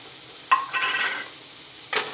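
Chopped green onion tops being sautéed and stirred in a pan for a Kathiyawadi stuffed rotlo, a steady soft sizzle with a couple of sharp utensil clinks against the pan, no talking.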